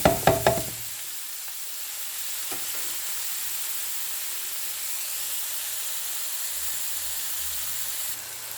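Leeks hitting melted butter in a pot give a few quick knocks and clatters up front, then a steady, soft sizzle and hiss that carries on alone over medium heat.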